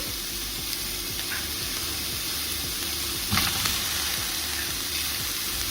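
Chicken pieces and green chillies frying in a pan for devilled chicken, a steady sizzle with a brief louder hiss as tomatoes are tossed in.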